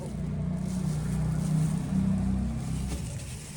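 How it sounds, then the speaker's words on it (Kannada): Heavy vehicle passing outside, a continuous low rumbling engine drone that swells slightly and then eases, steady and moderately loud over a few seconds. "ಹೆವಿ ಗಾಡಿ ಸೌಂಡ್"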